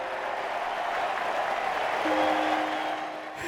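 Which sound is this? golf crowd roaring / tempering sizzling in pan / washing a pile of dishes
golf crowd roaring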